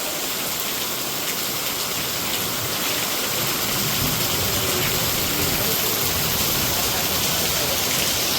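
Heavy rain pours down at night in a steady, dense hiss that stays loud and unbroken throughout, with no voices over it.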